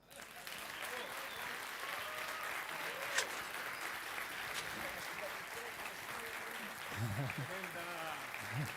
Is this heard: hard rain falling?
no